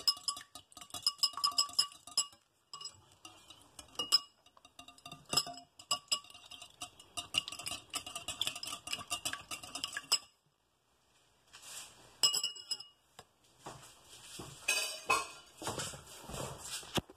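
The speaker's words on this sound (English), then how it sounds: "First to break the yolk. I'm going to whisk." Eggs are whisked for an omelette, giving rapid, bright clinks of a utensil against the bowl in bursts, with a short pause midway before the beating resumes.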